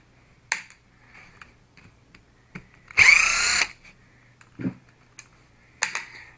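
A power tool backs out the retaining screws on the axle pumpkin of an RC Vanquish AX10 truck, a single loud whirring burst of under a second. Sharp clicks and small handling taps come before and after it.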